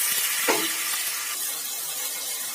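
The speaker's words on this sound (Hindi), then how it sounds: "इस तरह से थोड़ा सा भून लेंगे" Scooped-out potato insides frying in a pan with fennel seeds, giving a steady, loud broadband sizzle with a brief stirring scrape near the start and no voices.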